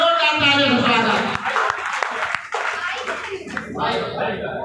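An audience claps loudly to welcome a student honoured at a Nag Panchami and Chaurasia Day community event in Rewa, steady close applause with voices talking over it.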